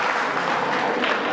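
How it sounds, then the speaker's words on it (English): Steady, dense applause from a workshop audience for the winners, a continuous wash of many hands clapping at even loudness throughout. "give a huge round of applause for the winners"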